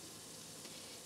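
A ground meat mixture seasoned with black pepper, sweet paprika, vegetable base and salt fries in a pan for crepe filling, giving a steady, close sizzle with no talk.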